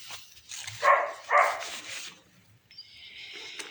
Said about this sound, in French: Ils sont très agités, les chiens, ce soir.